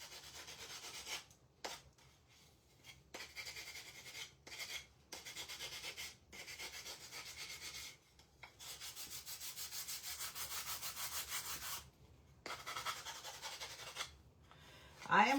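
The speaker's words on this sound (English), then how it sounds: "Again, I'm going to sand. I'm trying to get the sides really good." Painted wooden mini tags hand sanded at the sides to distress them, steady close rubbing strokes in bursts separated by short pauses.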